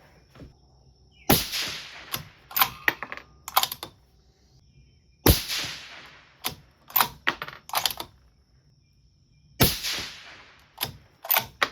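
Rifle shots fired through a DiscoveryHD XED 6-36x56 scope: three sharp, loud cracks spaced a few seconds apart, each followed by a quick decaying ring and a scatter of mechanical clicks from the action.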